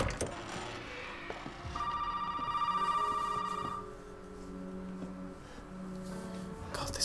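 A telephone rings inside a bunker in the video game Resident Evil 7, a steady electronic ring with sustained tones in the middle of the clip over low background game ambience.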